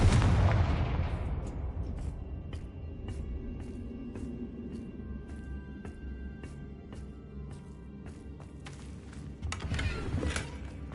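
A fiery Confringo blast spell explodes in Hogwarts Legacy, opening with a loud booming burst that rumbles and fades, followed by sparse crackling pops and a second swell of blast noise near the end.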